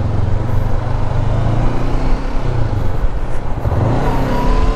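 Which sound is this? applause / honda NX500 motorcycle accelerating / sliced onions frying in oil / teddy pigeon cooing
honda NX500 motorcycle accelerating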